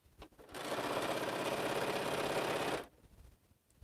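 A sewing machine runs steadily for about two seconds while stitching the last seam of a Phoenix quilt, a fast, even mechanical whir close by that starts and stops abruptly, with quiet room sound before and after.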